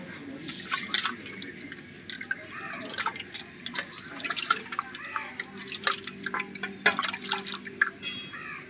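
Water splashes and drips while a brass plate is rinsed clean in a sink, close and uneven with scattered clinks and trickles, and no talk.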